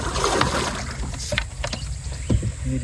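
A small boat rowed along a narrow river, with oars dipping and splashing in the water and faint knocks of wood, all close by for a few seconds with no talking.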